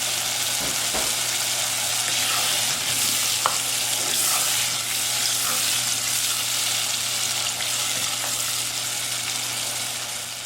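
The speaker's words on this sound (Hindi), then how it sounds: "अब हम इसमें लहसुन अदरक का पेस्ट डालेंगे और इसको और फ्राई कर लेंगे" Loud, continuous sizzling and spattering of garlic ginger paste frying in hot oil, with occasional stirring scrapes and no voices.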